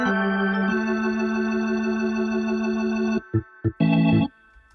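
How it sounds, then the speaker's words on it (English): A sustained electronic bubble organ tone in a music track holds steady chords, then breaks into short stuttering bursts and a final brief swell before it cuts off. "So the bubble organ sounds like this."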